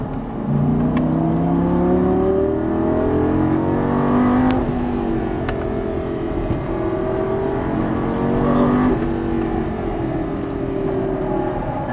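A Lamborghini Gallardo LP550 revs hard on a race track, its engine note rising through repeated climbs in a loud, continuous in-cabin roar with brief dips at gear changes.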